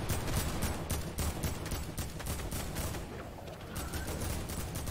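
Rapid AK rifle bursts in Fortnite, fired from high ground during a competitive EU Gauntlet Cup match, keep up as dense, loud, continuous gunfire with mechanical clatter for nearly five seconds, easing slightly toward the end.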